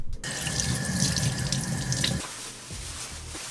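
Tap water runs steadily into a kitchen sink while items are washed, a continuous splashing rush that cuts off abruptly partway through, leaving faint drips and clatter.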